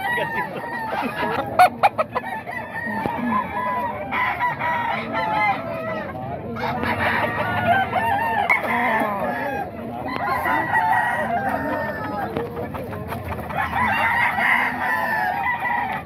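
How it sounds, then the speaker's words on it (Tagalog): Roosters crow repeatedly with hens clucking throughout, a busy, close barnyard chorus at a gamefowl market in Bocaue, Bulacan, with some voices mixed in. "Ito manok pa to ni Boss Perry mga boss"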